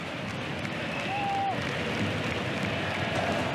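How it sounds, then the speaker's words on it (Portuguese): A big Fluminense football crowd roars in a stadium during a Brazilian league match against Vasco: a continuous dense wash of many voices chanting and cheering at a distance, steady and unbroken, with no distinct commentary over it. "E a torcida do Fluminense pediu He-Man"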